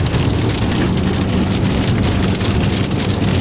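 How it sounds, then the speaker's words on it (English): Steady, heavy rain and hail pour down continuously, a dense hiss of drops drumming on a surface close by, with no voices. "Now the hail's stopping, as you can hear."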